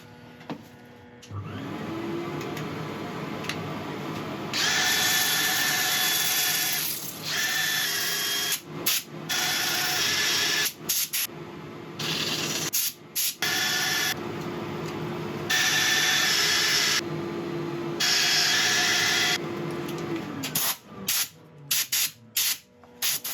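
A lathe hums steadily while bursts of loud, rough sanding of a turned sequoia redwood piece start and stop repeatedly, with brief quiet gaps between passes.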